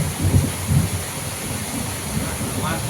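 Heavy rain pours in a pine forest as a dense, constant hiss, with low rumbling gusts of wind buffeting the microphone early on and a faint voice in the background.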